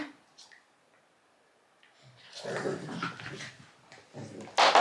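A small dog whimpers and yips while chasing a thrown toy indoors, with faint squeaks at first and then louder bursts mixed with people talking nearby.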